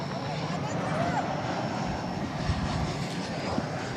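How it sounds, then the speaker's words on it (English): An American Airlines Airbus A321 jet takes off at night from DFW, its engines a steady, broad, rumbling roar heard at a moderate distance with some faint talk mixed in. "about to see American flight 2167 off to Portland in Airbus A321."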